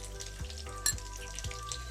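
Crushed ginger, six garlic cloves and four green chilies sauté in a pan, a soft, even sizzle with a few faint scrapes of stirring and one sharper crackle, no voices.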